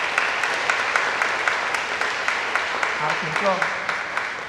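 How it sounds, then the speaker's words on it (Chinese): A congregation at a Taiwanese-language church service claps to welcome newly introduced members, sustained group applause that carries on while someone speaks briefly over it near the end. "咱拍手来欢迎。"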